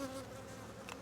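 Honey bees buzz steadily around an open hive while a beekeeper works to mark the queen, a close, continuous drone of many wings with a brief brighter flare near the end.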